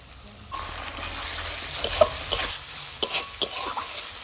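A spice paste of onion, ginger-garlic, cumin and tomato with whole garam masala and nigella is stir-fried for a Bengali fish head curry. Soft sizzling runs under intermittent scraping stirs that grow busier toward the end.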